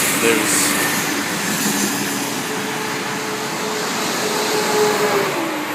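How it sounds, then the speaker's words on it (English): A car passes close by on Route 301, a loud steady broadband road roar and tire hiss that fills the whole stretch without easing off. "This car is coming by, so they're going to make it loud."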